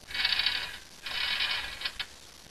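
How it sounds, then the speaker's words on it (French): Metal chain rattling and clinking through its links as the height of a hanging barbecue is adjusted, two close bursts of jangling with a few sharp clicks at the end. "Bien entendu, on peut régler la hauteur grâce à cette chaîne."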